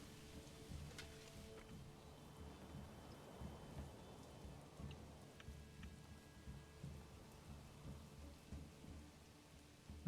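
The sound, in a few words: thunderstorm with rain in the video game Manor Lords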